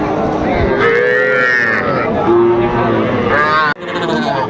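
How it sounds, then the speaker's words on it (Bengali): Cattle, including young bulls and heifer calves, moo loudly and close by at Aftabganj cattle market in Dinajpur, several long drawn-out lows one after another, with a brief cut near the end. "এখানে সুন্দর সুন্দর গরু কালেকশন করছে কবির ভাই"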